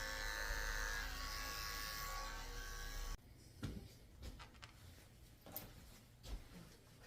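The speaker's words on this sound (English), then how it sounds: "Shaving the pads of his feet out with a 30 blade." Electric clippers fitted with a 30 blade shave the paw pads of a Pomeranian mix, giving a steady, close buzz for about three seconds that cuts off abruptly, followed by quieter scattered handling sounds.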